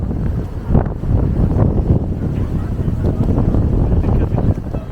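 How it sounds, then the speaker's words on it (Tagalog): Gusty wind in New York buffets the microphone with a loud, rumbling roar that rises and falls in waves. "Sobrang lakas kasi ng hangin."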